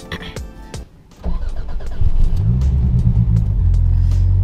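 A turbocharged Toyota MR2 engine cranks briefly, then catches and settles into a loud, steady low idle, with a voice heard at the start.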